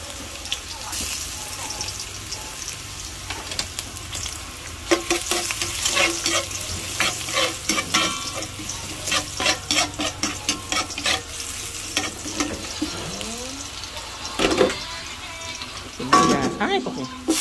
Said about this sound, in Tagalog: Init na po yung mantika, ano. Mag-isa na po tayo ng bawang.